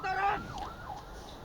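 A wailing ambulance siren sweeps up and down at night as the ambulance forces a contraflow through oncoming cars, loud at first and then steady and slightly distant.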